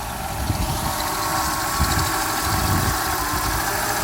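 Mercedes engine idling steadily up close, a loud, even rumble with a slight rhythmic throb and no voices over it.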